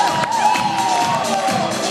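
Wedding guests cheer and whoop in a loud, dense crowd burst, with children's shouts mixed into the sustained roar.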